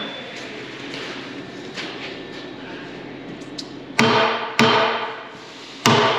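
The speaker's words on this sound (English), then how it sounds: "He uses the little hammer." Three sharp, ringing metallic strikes from a small hammer on metal, spaced a second or so apart, each cutting through a steady background hum of machinery.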